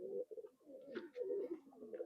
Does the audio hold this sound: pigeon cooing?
yes